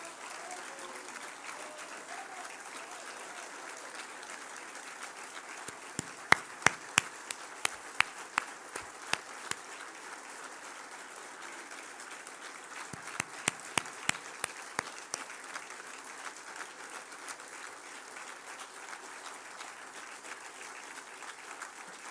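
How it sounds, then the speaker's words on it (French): A crowd at a political rally applauds, a continuous distant wash of clapping with bursts of sharper, louder claps standing out in two clusters. "Je vous demande d'applaudir Evelyne Reber."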